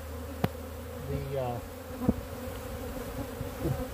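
Honey bees buzz steadily around a hive on a bee farm, a close, droning hum with a few sharp knocks and handling sounds mixed in.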